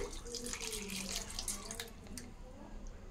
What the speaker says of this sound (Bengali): তো এই যে দেখুন, অল্প করে জল দিয়ে দিচ্ছি